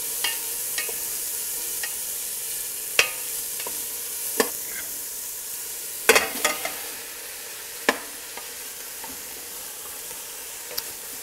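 Chorizo fries in a pot with a steady hiss and sizzle, with occasional sharp pops and clicks of a stirring utensil scattered across the stretch.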